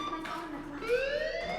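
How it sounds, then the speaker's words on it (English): A fire alarm rings in the game Life is Strange, a steady electronic tone that bends upward partway through, with a faint voice under it. "Hey, do you hear that fire alarm?"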